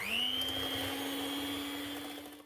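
An electric mixer or blender whirs steadily at a constant high pitch while mixing sour cream, cinnamon and salt, then winds down at the end.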